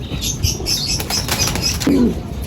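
A racing pigeon's wings flap in a quick flurry as it lands, loud and close, followed by a short low cooing call.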